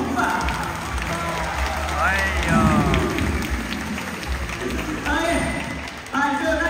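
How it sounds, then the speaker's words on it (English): An audience at a Singapore Zoo splash show applauds the performer Pumbaa, a sustained patter of clapping under an announcer's amplified voice and bursts of music. "Another big round of applause for Pumbaa."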